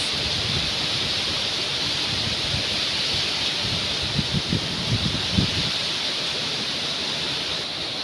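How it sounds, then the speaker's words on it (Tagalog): Heavy rain pouring down onto garden plants and leaves outdoors, a dense steady wash of hiss with occasional louder drips and patters, continuous and close with no talk. "ngayon pa lang siya umulan"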